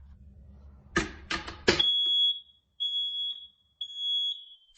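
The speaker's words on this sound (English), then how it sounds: "Now we're going to test our last smoke and CO detector." A combined smoke and carbon monoxide detector under test gives a few clicks and handling bumps, then sounds a piercing high beep: one long tone followed by shorter repeated beeps with gaps. Heard up close, with no talk.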